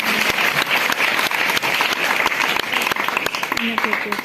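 Loud, dense applause fills a quiz competition hall, sustained and steady throughout with sharp individual claps standing out, and a faint voice briefly audible near the end.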